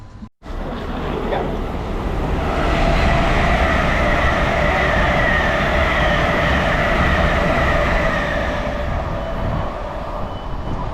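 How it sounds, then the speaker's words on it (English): A train arriving at a station in Ely, England rumbles steadily past at close range, a loud continuous rolling roar with faint rail clatter, holding level for several seconds without pause. "as my train arrives for Newcastle"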